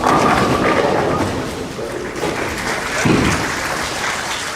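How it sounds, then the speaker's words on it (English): Applause from an audience at a junior girls' under-12 bowling event, a broad sustained wash of clapping that fades slightly then swells again, heard at a moderate distance with faint voices mixed in. "I give Abigail a big round of applause."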